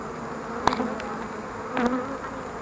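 Honeybees buzz around an open beehive during an inspection, a close, steady droning hum with a couple of brief louder passes.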